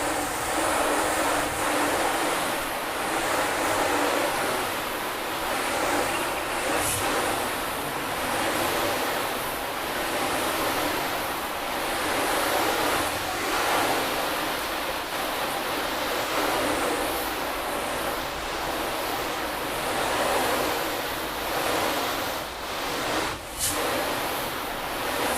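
A steady water hose spray rinses a freshly washed car, a continuous close hiss of water rushing over the paint with no voices and little change for the whole stretch.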